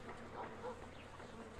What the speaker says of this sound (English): So are these bees going to be gone?